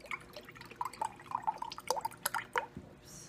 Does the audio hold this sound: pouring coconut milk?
yes